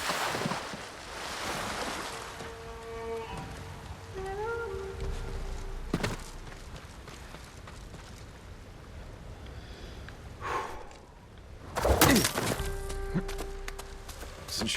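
A waterfall in the video game Ghost of Tsushima gives off a soft, continuous rushing wash, mixed with tonal game effects and a few sharp transient hits.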